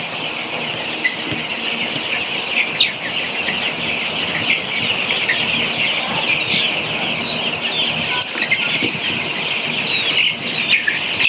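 Young Sonali chicks on a poultry farm chirp and cluck continuously, with bursts of wing flapping and scuffling, a busy, dense flock sound at moderate distance.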